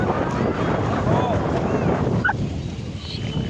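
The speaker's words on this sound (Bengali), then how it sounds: "অনেক সুন্দর বাতাস আসতেছে" Steady wind blows and buffets the microphone, a continuous gusty rush that lasts the whole stretch, loud and close.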